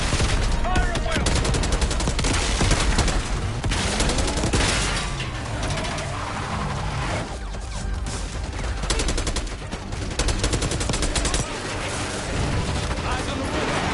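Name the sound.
gunfire in Black Ops 6 video game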